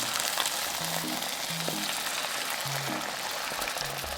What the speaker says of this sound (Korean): 스팸 두부, 스팸 두부, 가지런히 올려주세요. 그 위에 달걀을 두루루